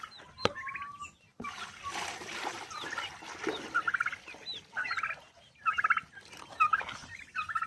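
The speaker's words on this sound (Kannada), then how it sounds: "ಬಾತುಕೋಳಿಗಳಿಗೆ ನೀರನ್ನು ಸಕ್ಕತ್ ಇಷ್ಟ." Ducks and chicks cluster around a pan of water, gabbling and peeping close by while wings and bills splash and slap the water in bursts.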